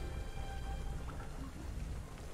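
Steady rain falling in the Planet Zoo video game, a dense continuous hiss with soft patter throughout, no voices.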